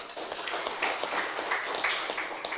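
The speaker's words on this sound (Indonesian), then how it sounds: "Tepuk tangan untuk NU." A crowd applauds a speech praising NU, the Indonesian organisation: dense, steady clapping that fills the whole moment at an even level.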